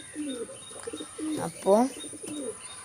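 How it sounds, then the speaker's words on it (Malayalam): Newly bought pigeons at a nest with eggs give soft, repeated throaty coos close by, with a few chirps. Someone speaks over and between the calls. "പുതിയത് വാങ്ങിയതാണ് പ്രാവിനെ"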